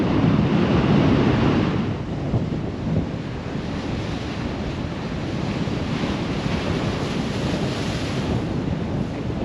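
Ocean waves on the Oregon coast at high tide near a rough boat channel, a steady loud wash of surf with a stronger surge early on, mixed with gusting wind buffeting the microphone, no voices.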